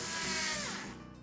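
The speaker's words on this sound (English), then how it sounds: "let's drill a new hole right about here." Power drill boring a hole into a concrete driveway slab, a brief close whine that rises in pitch and then trails off.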